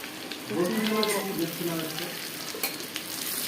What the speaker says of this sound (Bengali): তার মধ্যে পকোড়াগুলো ভেজে নিচ্ছি